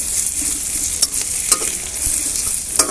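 A kadai on a hot stove holds greens frying for nalleru (veld grape) pickle, with a steady crackling sizzle throughout and a few sharp scrapes of the spoon stirring at intervals, close up and with no talking.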